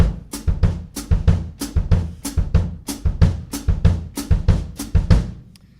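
A steady, repeating samba drum pattern: deep kick drum thumps paired with crisp foot-played hi-hat chicks, looping evenly for several seconds with no voices.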